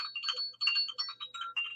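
A phone ringtone plays alone and faintly, a bright warbling electronic melody in quick repeated pulses.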